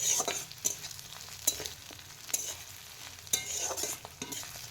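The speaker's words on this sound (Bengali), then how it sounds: "থেতো করা রসুনটা পেঁয়াজের সঙ্গে হালকা নেড়েচেড়ে আবারও ভেজে নিব।" Crushed garlic with onions stir-fried in hot oil for a fish head, papaya and potato ghonto, a steady close sizzle broken by repeated scraping spatula strokes in an irregular rhythm, with no talking.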